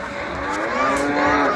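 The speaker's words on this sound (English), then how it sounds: "Baby cow." A calf moos once, a drawn-out nasal call lasting over a second, close and fairly loud.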